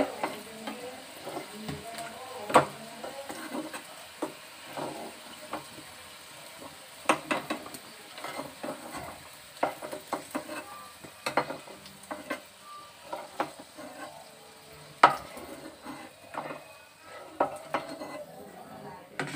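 Fish fries in oil in a pan, with a soft ongoing sizzle broken by frequent scraping and clinking of a utensil against the metal pan, some sharp knocks standing out among the quieter stirring.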